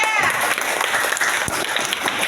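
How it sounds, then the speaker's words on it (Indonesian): A classroom of students claps for a student group after it answers a question, a dense, steady burst of applause lasting about two seconds before stopping abruptly, with a few voices mixed in. "tepuk tangan buat kelompok 3"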